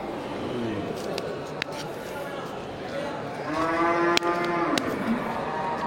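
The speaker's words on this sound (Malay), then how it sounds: "sudah banyak terlihat ini sapi-sapi jantan dan sapi betina" An Aceh cow moos loudly in a long, drawn-out call over a steady outdoor din at a cattle gathering, with a few sharp clicks and clatters around it.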